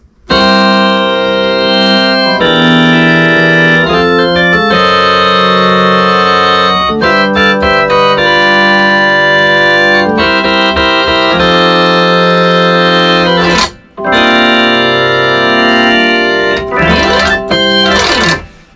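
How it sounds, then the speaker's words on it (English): A rock organ voice on a Williams Legato LE 88-key digital piano plays chords and runs, bright and sustained, loud and continuous with a brief pause near the end. "So the rock organ right here sounds like this."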